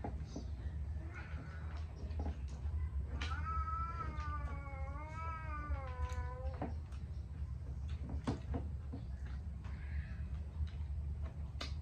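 Cats in a home kitchen during lunch let out one long wavering caterwaul and a few shorter meows, close by, amid clinks and cupboard knocks.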